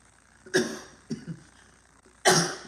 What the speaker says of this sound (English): Or you can do like that and cough.